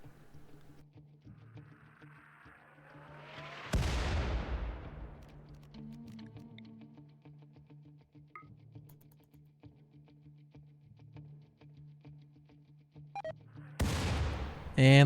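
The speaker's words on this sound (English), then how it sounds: "Jake has hopped on the mortar and is going to fire all of the stockpiled shells at them" Mortar firing shells in the video game RimWorld: two sharp, loud booms about ten seconds apart, each with a decaying rumble, over a quiet background of soft tones and clicks.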